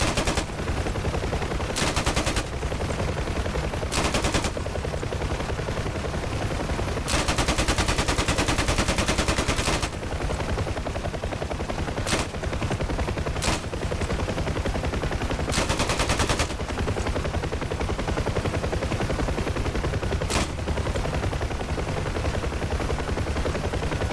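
Video game gunfire pours out in long, loud machine-gun bursts, dense and continuous for over twenty seconds with a helicopter-like drone underneath and brief pauses between volleys.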